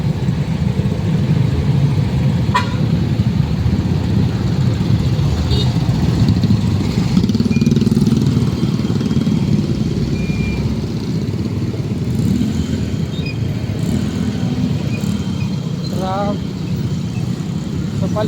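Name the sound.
road traffic with cars and motorcycles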